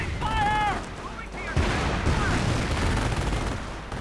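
Battle noise from a WWII strategy game, with shots and bursts of gunfire as a sticky bomb hits a Hetzer tank, steady and dense under game voices and sound effects.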